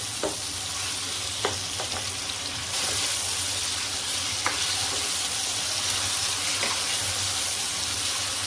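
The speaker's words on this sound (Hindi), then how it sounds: "फ्लेम को आपने लो टू मीडियम रखना है और आलूओं को भून देना है" Potatoes for aloo palak fry in a pan over a low to medium flame, with a steady, even sizzle throughout and a few soft scrapes of stirring now and then.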